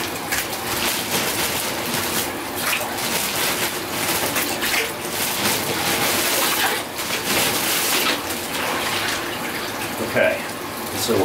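Water pours steadily into an ice bath tub, a constant rushing, splashing fill that stays fairly loud and even throughout.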